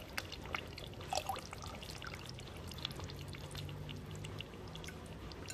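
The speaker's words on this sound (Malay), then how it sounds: "Kita masuklah santan pekat ni." Thick coconut milk poured into fried curry spice paste for curry noodles, a soft continuous liquid pour with faint trickles and drips, close and quiet, no voices.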